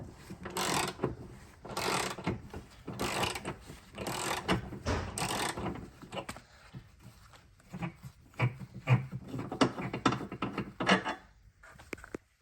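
A wrench works a wheel bolt free on a VW Transporter, giving a series of close, irregular metallic ratcheting clicks and clunks in bursts with short pauses, no talk.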